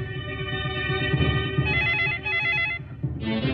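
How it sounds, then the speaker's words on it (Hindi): A telephone bell rings in a tense scene from a Bollywood thriller film, with repeated rapid metallic trills close and loud under a low music bed, ending in a sharper ring burst. "फोन उठाओ।"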